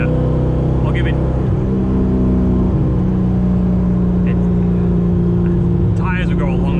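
A C5 Corvette Z06 pulls hard under heavy throttle on a back road, heard from inside as a steady low engine drone with shifts in pitch, while someone talks over it.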